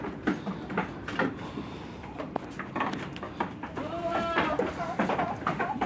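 Anglo Nubian goats bleat repeatedly on a farm, several overlapping calls of varied pitch at close to moderate distance over steady rustling background noise, with no speech.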